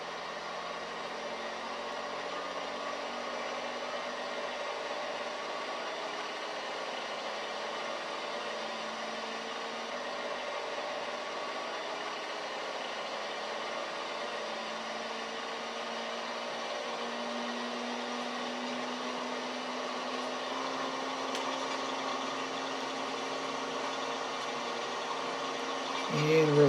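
Engine of a Beechcraft Bonanza propeller plane with retractable gear at full throttle on the takeoff roll, a steady loud drone held for the whole stretch and swelling slightly at the end, without talk over it.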